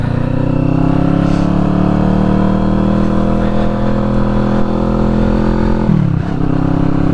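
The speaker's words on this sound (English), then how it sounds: "I'm testing my new exhaust sound for the first time" Kawasaki Vulcan S motorcycle fitted with a Delkevic slash cut exhaust running on the road, a loud, continuous engine drone with a brief shift in pitch near the end.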